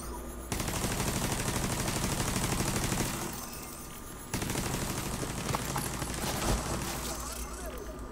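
Gunfire from the video game The Division 2: sustained bursts of automatic fire with a short lull midway, loud and continuous.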